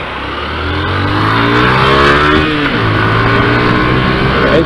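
A motorcycle engine revs loudly and up close while riding, a strong rising and falling drone with harmonic whine that swells through the middle and holds steady to the end.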